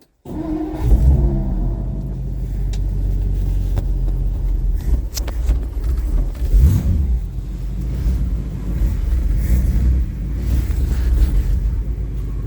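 An old car with a 292Y block engine and blow-by runs close and loud on a cold day, a steady low rumble that swells with a few revs.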